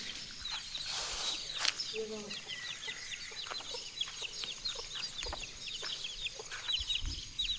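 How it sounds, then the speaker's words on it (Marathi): Free-range village hens clucking and calling in short bursts around an outdoor yard, with other birds and a voice briefly audible in the background. "आमच्या बघा गावरान कोंबड्या आहेत."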